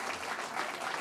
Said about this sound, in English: you can clap for a new school